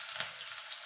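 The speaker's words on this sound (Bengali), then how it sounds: "তেলটা গরম হয়ে গেছে, দিয়ে দেবো পেঁয়াজ কুচানো," Chopped onion hits hot oil and gives a brief, bright, crackling sizzle heard up close, with no speech.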